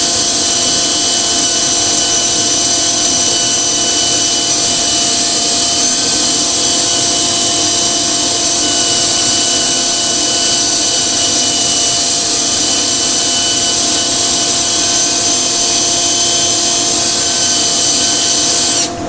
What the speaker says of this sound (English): be a little bit careful how much sanding with the lathe running you do